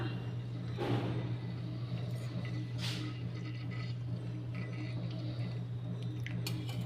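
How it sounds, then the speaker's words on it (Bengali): Two bay leaves and one dried chilli sizzle quietly in hot oil for a spinach and soybean dish, a soft, steady frying hiss over a constant low hum, with a couple of brief louder crackles. "তেলের ওপরে আমি একটা তেজপাতা, দুটো তেজপাতা আর একটা শুকনো লঙ্কা দিয়ে দিলাম।"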